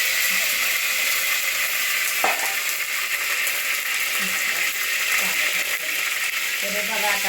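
Hot oil sizzles and crackles steadily with scattered small pops as cumin seeds splutter, with no talking over it.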